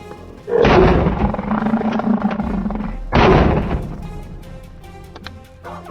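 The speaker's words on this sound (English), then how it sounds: "A crisp gunshot rang out the moment the target appeared." Gunshots during a wild boar hunt on a hillside: two heavy, booming blasts a few seconds apart, each loud and rolling out into a lingering roar before fading.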